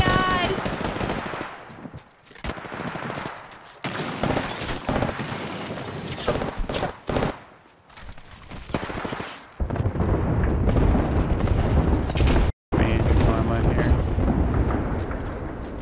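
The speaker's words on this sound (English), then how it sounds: "I'm being shot by the other team" Rapid automatic gunfire and explosions from the video game Apex Legends, loud bursts with short gaps, mixed with players talking.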